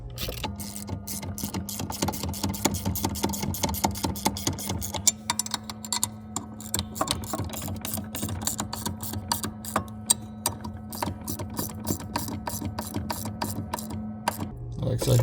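Bolts being tightened on the foot pedal plate of a Kenworth truck from 2005 or older, heard as a long run of fast, even ratchet clicks with a steady mechanical hum beneath, close and continuous.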